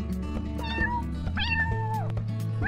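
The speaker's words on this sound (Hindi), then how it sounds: "बिल्ली, ये तो छोटी सी प्यारी सी बिल्ली है।" A small cat meows several times close by, rising and falling calls over a steady low hum, with no talking.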